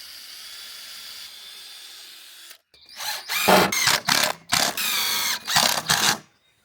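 A power driver drives screws into a scrap-wood storage cabinet shelf, with several loud close whirring bursts in quick succession after a quiet moment of room hiss.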